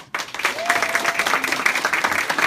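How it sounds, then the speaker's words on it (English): A comedy club audience bursts into dense, loud applause that starts abruptly and holds steady, with a faint voice briefly audible beneath the clapping. "Clap if you are against spanking children."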